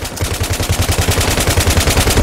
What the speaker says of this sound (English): You have a lot of friendlies firing at the enemy at the same time